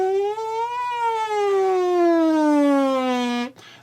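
Buzzed lip-and-mouthpiece siren on a trumpet mouthpiece, a single continuous tone that rises briefly and then glides slowly downward for about three and a half seconds before cutting off abruptly, close and fairly loud.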